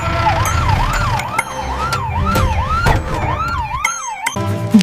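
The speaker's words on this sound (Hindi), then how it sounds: "एम्बुलेंस अस्पताल के गेट पर पहुंच गई है।" An animated ambulance's siren wails in a steady rising-and-falling cycle as it pulls up to a hospital gate, loud and close, and cuts off abruptly near the end.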